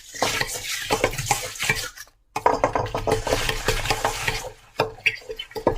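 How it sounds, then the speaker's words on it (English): A metal spoon stirring and scraping through a soap mixture with milk in a pot, with steady clinking and sloshing strokes, a brief pause, then more continuous stirring, close and clear with no talk. "using a nice metal spoon, I'm going to continuously mix it"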